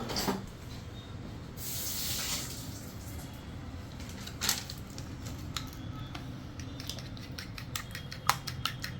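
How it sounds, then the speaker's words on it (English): A single egg beaten with a fork for a fried chicken coating mix, giving quick, light metallic clicks and taps against the bowl over a soft background hiss, with a few sharper ticks near the end. "Now we quickly beat it with a fork"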